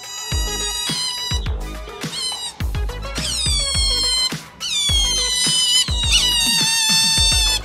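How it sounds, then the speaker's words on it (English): Otters give a run of high, squeaky meow-like calls, repeated in quick overlapping bursts, loud and close with no talk. "Have you ever heard otters meow like this?"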